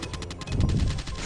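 Rapid bursts of gunfire in Call of Duty Mobile crackle in quick succession, fairly loud and continuous with a dense low rumble, no talking over it.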